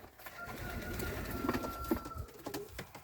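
Soft, low coos from yellow Czech show pigeons in a new loft repeat a few times against a steady hum and faint background noise, moderately close but not loud.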